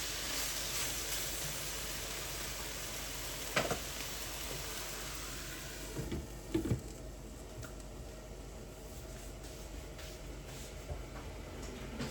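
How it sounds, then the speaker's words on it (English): A steady, hissing roil of water boiling fills the clip, with a few faint bubbling pops rising through the continuous rush. "the water is boiling"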